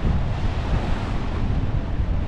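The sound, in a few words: wind on the seashore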